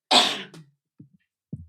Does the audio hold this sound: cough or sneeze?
yes